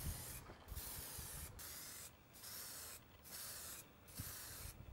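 An aerosol can sprays paint onto an airsoft gun in repeated bursts of steady hiss, each a second or so long, separated by brief pauses, quiet and close.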